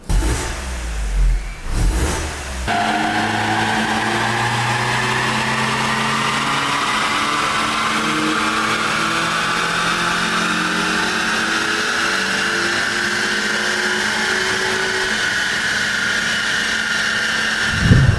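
Modified BMW E46 318i engine revving hard on a dyno, a sustained loud run with rising pitch through the gears, opening after a brief burst of clatter and holding at full load to the end, with no talk.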